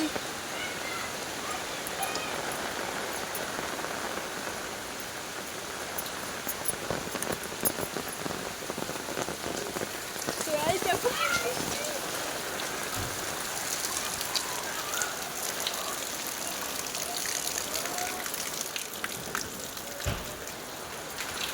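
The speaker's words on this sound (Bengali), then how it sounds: "এই দেখো খুব বৃষ্টি চলছে।" Heavy rain pours down outdoors, a dense, steady hiss of drops on surfaces that swells slightly midway and continues without pause, with a voice speaking faintly at times.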